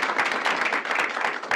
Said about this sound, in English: give her and yourselves a round of applause